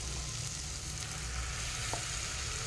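Ground masala paste sizzles steadily in a hot pan for a bitter gourd pulusu, an even, moderately loud frying hiss throughout with a faint clink of stirring partway through.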